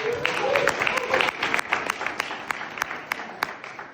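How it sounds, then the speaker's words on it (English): Audience applause at a saxophone day concert with a wind band, scattered sharp claps over a broad crowd wash, with voices mixed in throughout. "Let's give her a round of applause."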